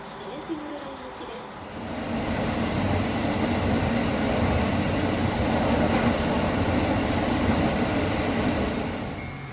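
A Japanese local electric train bound for Higashi-Muroran runs toward Koboro Station in Hokkaido, its steady rolling rumble and rattle building after a quiet start, then holding loud and close inside the carriage.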